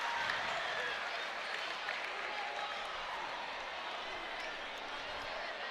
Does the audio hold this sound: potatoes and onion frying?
no